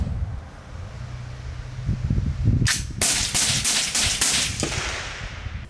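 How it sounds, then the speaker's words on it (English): Shots from a 224 Valkyrie rifle outdoors, several sharp cracks in quick irregular succession heard at a distance over steady wind noise, preceded by a low rumble. "This thing does not shoot that well."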